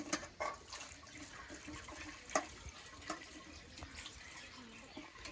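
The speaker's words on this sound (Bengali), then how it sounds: "আমরা এখন চাউমিনটা ভালো করে জল দিয়ে ধুয়ে নেব, ঠান্ডা জল দিয়ে ধুয়ে নিতে হবে" Cold tap water runs over boiled chow mein noodles in a sink as they are rinsed, a quiet steady splashing with a few louder spatters, with no talking.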